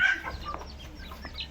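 Egg-laying hens cluck softly at close range, with brief clucks and chatter over faint background hiss and no speech.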